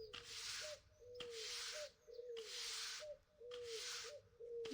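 A bird in the video game Silent Flames gives four evenly spaced hooting calls, each with a rising-falling tone over a steady background hiss, quiet and fairly close with no talking.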